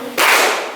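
A single crisp clap struck together by students in a classroom clapping game, sudden and loud, with a short room tail trailing away.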